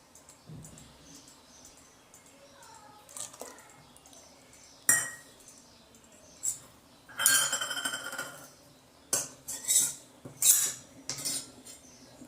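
A metal spoon stirring custard powder into a milky almond shake in a pot, giving intermittent clinks and scrapes against the vessel, separated by quiet gaps, with no talking.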